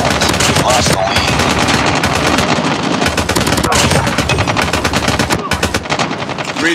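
The Man o War rifle fires dense, loud bursts of automatic gunfire in Call of Duty Hardpoint on the Rust map. The shots overlap with other battlefield noise almost without a break.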